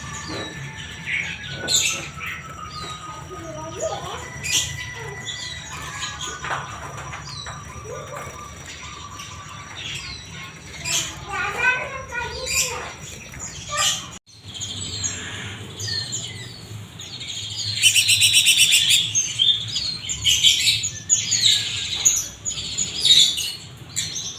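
Busy chirping and tweeting from several small caged songbirds at a bird shop, steady and close, with a denser burst of high twittering toward the end.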